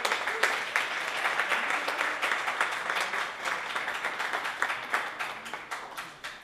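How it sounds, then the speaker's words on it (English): Applause from a retail panel discussion audience, a moderately loud spread of individual claps that keeps up evenly for over six seconds in a room. "Let's give a big round of applause for them."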